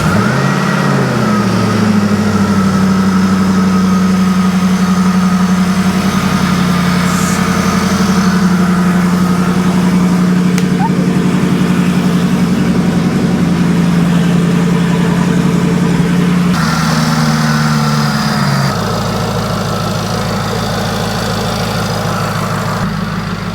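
A rebuilt 700+ hp Jaguar XFR V8 engine, previously wrecked, idles steadily right after its first startup. It makes a loud, close, continuous rumble that settles from a high idle to a lower one near the end, with no talking.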